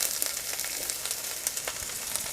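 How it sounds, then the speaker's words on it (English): Onions and scallion whites hit hot oil in a pan for shrimp lo mein, giving a loud, steady sizzle with crackling pops throughout, close by and with no talking. "Add the onions,"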